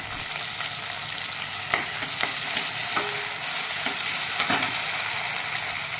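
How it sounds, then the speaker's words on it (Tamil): Curry leaves and tomato frying in hot oil for a curry, a steady loud sizzle with a few sharp crackles and spoon scrapes, close by with no talking. "அது பொரிஞ்சு வந்ததுக்கப்புறம் கொஞ்சம் தக்காளி சேர்த்துங்க."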